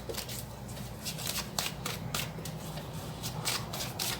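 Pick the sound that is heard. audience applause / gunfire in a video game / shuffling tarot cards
shuffling tarot cards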